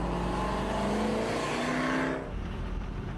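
A 1970s Pontiac Trans Am Super Duty accelerates hard, its engine roaring loud and close with a rising pitch, then the note drops as it shifts gear, the roar steady throughout.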